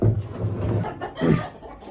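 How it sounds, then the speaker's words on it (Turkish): A rooster crows nearby with a rising, drawn-out call, accompanied by clucking and background farmyard noise. "Burada Warwick'lerin horozlarından bir tane daha var"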